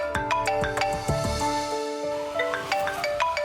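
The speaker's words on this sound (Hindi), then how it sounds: "फोन आ रहा है किसी का।" A mobile phone rings with an incoming call, a repeating electronic ringtone melody of bright tonal notes playing steadily and fairly close, with no talk over it.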